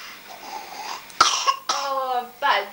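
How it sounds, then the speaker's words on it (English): A bad cough at home, several harsh barking coughs close by, one sharp burst followed by rougher throaty ones, with a voice-like hum between them. "Oh, a bad cough."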